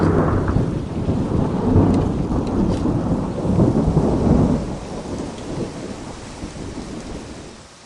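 A thunderstorm with heavy rain: loud rolling thunder swells and fades over a constant wash of falling rain, with no voices.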